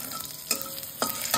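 Vegetables fry in oil in a pan with a constant close sizzle, broken by three sharp scraping bursts of stirring.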